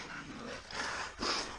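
Pig-hunting dogs panting and huffing hard after catching a boar, close and fairly faint, in a short burst of quick breaths with no talk.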